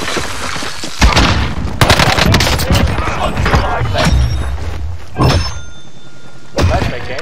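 Heavy thumping blasts and gunfire in the Warzone video game, where a frag grenade is thrown, with several loud booming hits spread across a busy, dense soundscape of combat noise.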